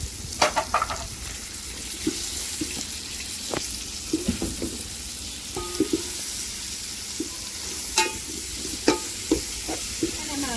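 Onion, tomato and masala fry in oil for chicken dum biryani, a soft continuous sizzle marked by scattered clinks and scrapes of a stirring utensil, with faint running water in the background and no speech.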